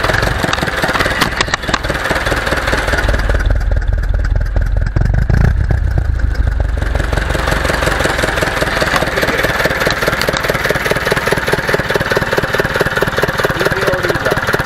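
A restored Ursus C-360 tractor engine idles close by with a steady, loud diesel clatter and rhythmic knocking, holding a constant pace throughout with a brief swell partway through.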